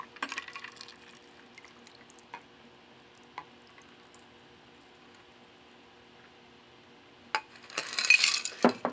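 Bourbon poured over ice into a glass while mixing a drink, a brief liquid splash and clink of cubes rising near the end after a mostly quiet stretch with a few small taps.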